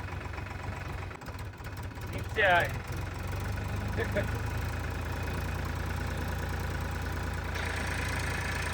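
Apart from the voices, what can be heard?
tractor engine running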